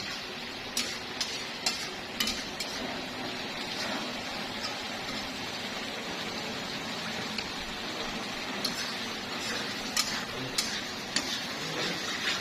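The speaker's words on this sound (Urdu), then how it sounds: "اچھے سے اس کی بھنائی کر لیں گے" Chicken karahi sizzles in a pan while being stirred, a steady frying hiss with scattered sharp clicks and scrapes of the spoon against the metal throughout.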